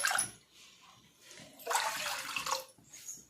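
Water is poured into a vessel while preparing a homemade hair tonic, giving splashy bursts of liquid noise with a louder stream in the second half and a quieter patch between.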